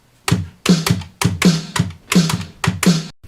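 Pads on an Alesis HR-16 drum machine being restored trigger a run of about nine short, punchy drum hits in an uneven rhythm, each with a quick decay, heard alone and close.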